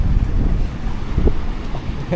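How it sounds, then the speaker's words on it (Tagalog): Strong wind blowing at sea beside an island, a constant roaring buffet of gusts across the microphone with waves and boat noise beneath, no talking. "So malakas-lakas yung hangin."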